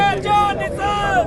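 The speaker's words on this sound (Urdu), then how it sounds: "نعرے بازی کا آغاز ہو چکے، اس وقت اڈیالہ جیل کے باہر موجود ہیں۔" A crowd chants slogans outside Adiala jail, a loud, continuous mass of voices rising and falling together, close and filling the air.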